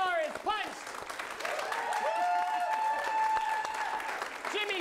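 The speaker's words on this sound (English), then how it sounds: "Let's get that round of applause going." A round of applause rises from an improv comedy show audience, steady crowd clapping over about five seconds while tonal sounds and voices carry on underneath.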